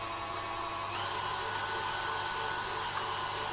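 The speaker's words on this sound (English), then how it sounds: "125 grams of egg white, and we're going to whisk that up until it's nice and frothy" Electric whisk whipping 125 grams of egg white until frothy, a steady, loud motor whir that runs unbroken throughout with no talk.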